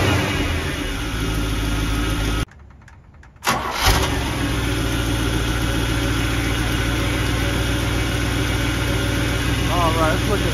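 A GM car with a new three-wire 10SI alternator cranks and fires after a brief quiet gap, then settles into a loud, steady idle. A person speaks over the engine.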